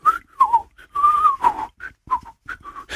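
Someone whistles a short, jaunty tune nearby, bright notes rising and falling in quick phrases with brief gaps.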